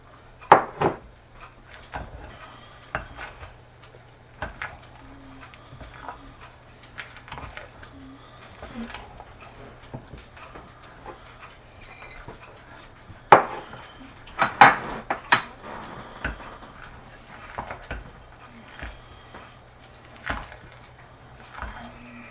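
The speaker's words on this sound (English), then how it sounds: "Takes a little bit of handwork to mix the muffin batter together here" Muffin batter is stirred by hand with a utensil scraping and knocking against the bowl, irregular clinks and scrapes, close and moderately loud.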